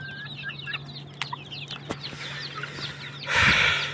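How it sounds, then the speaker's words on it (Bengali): Backyard native chickens cluck and chirp in short, scattered bursts at close range, with a few sharp knocks and a louder rustling flurry near the end. "এই যে একটা মুরগ, অনেক সুন্দর হয়েছে এই মুরগটা"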